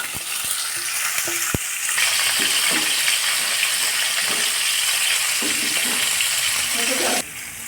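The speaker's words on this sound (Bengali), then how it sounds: "এবার পটলগুলোকে ভেজে নেওয়া হচ্ছে।" Sliced pointed gourd (potol) frying in a little mustard oil in a pan, with a steady close sizzle throughout and a few sharp knocks and stirring clatters near the start.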